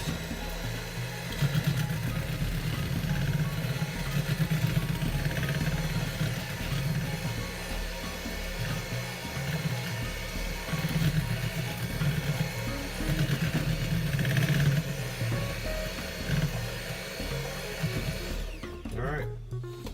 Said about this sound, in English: You want to mix this on a relatively low speed so that you don't make a mess.